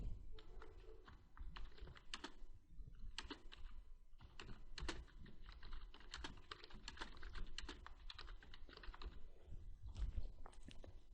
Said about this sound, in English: Now type your title.